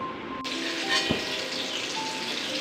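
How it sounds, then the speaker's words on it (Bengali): Pieces of pointed gourd and potato fry in a pan with a steady, soft sizzle and a brief stir partway through, close up and fairly quiet. "দেখো এখন পটল আর আলুটা ভাজতে বসিয়ে দিয়েছি"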